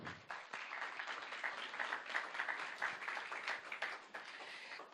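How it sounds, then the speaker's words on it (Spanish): Applause from an audience at a lawyers' association ceremony, a dense, steady round of clapping that holds for several seconds before thinning out at the end. "Vamos a brindarle ese fuerte aplauso"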